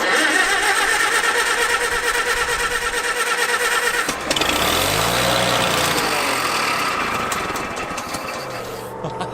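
An old abandoned tractor engine runs rough and loud nearby, a dense clattering roar that shifts pitch midway as it settles toward idle, with faint rising tones near the end.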